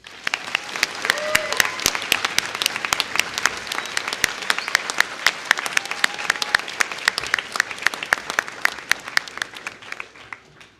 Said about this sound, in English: Let's give Cadet England a round of applause.